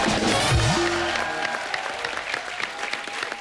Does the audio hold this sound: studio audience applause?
yes